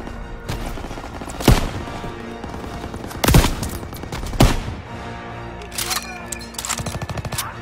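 Machine gun fire and shelling on a D-Day beach in Call of Duty: WWII, with sharp loud bursts of gunfire at irregular intervals over a constant din of battle.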